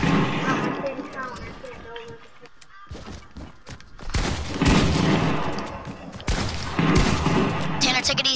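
Video game gunfire erupts in loud rapid bursts after a quieter stretch, with sharp repeated shots and heavy impacts while players talk over the action.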